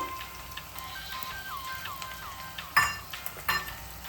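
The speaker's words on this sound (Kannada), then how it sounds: "ಇದೊಂದು 2 ನಿಮಿಷ ಫ್ರೈ ಆಗಬೇಕು, ಹಸಿ ವಾಸನೆ ಹೋಗೋ ತನಕ. ಮೀಡಿಯಂ ಫ್ಲೇಮಲ್ಲಿ ಫ್ರೈ ಮಾಡಿ." Ingredients for Ambur kushka fry over a medium flame, giving a steady soft crackle with a few louder stirring scrapes near the end and no talk.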